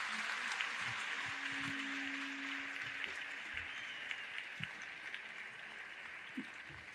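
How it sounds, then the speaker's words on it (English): Audience applause welcoming Sri Swamiji at a devotional Sri Venkateswara Vaibhavam event, a steady wash of clapping from a sizeable crowd held at an even level throughout, with no voices over it. "Let us give another round of applause and warm welcome to Sri Swamiji."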